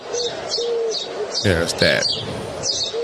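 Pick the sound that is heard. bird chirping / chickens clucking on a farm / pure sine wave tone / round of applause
bird chirping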